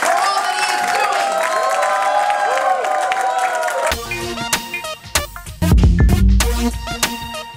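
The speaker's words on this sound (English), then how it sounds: "You gotta make some noise. Put down your food and clap it up." A live audience at a taped episode cheers and claps, a sustained roar that gives way partway through to loud music with heavy beats and bursts of clapping.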